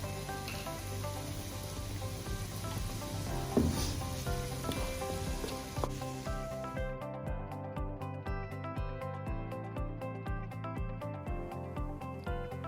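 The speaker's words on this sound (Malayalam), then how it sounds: "ഇനി കുറച്ച് വേപ്പിലയും കുറച്ച് വെളിച്ചെണ്ണ ഒഴിച്ചു കൊടുക്കും" Squid roast sizzles steadily in a pan after coconut oil and curry leaves go in, a continuous close frying hiss over background music with occasional spoon scrapes and no talk.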